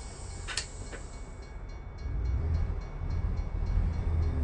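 A passenger train rolls past in American Truck Simulator, a low steady rumble that swells over the last seconds, with faint rhythmic clicks of wheels on rail joints and a brief sharp squeal near the start.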